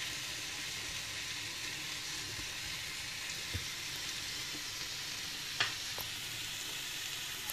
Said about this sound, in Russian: Пусть обжариваются.